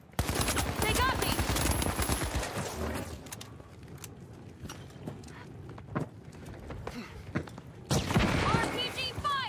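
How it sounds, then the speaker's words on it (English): RPG fire and other gunfire in the video game The Finals come as dense, loud bursts of shots and blasts, easing in the middle and returning at the end, with a voice talking over parts of it. "RPG fire."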